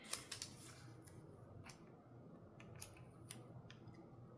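Scissors snipping decorative strips for fall florals, a series of sharp close clicks and cuts scattered irregularly over a quiet background.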